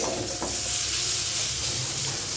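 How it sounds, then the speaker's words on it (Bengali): Pumpkin and bitter gourd fry in a pan, giving a steady, close sizzle and hiss throughout with faint stirring, and no talking. "এখানে এই মিষ্টি কুমড়ো উচ্ছে দিয়ে ভাজা হচ্ছে"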